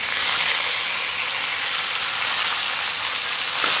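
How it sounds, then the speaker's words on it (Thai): Garlic and pork belly fry in a pan for a Lao-style salad, a loud, steady, close sizzle of hot fat that holds without pause throughout. "ใส่กระเทียมลงไปค่ะ ใส่ครึ่งหนึ่งก่อนนะคะ แล้วก็ตามด้วยหมู3ชั้นนะคะเอาที่มันๆลงไปเคี่ยวก่อนนะคะ"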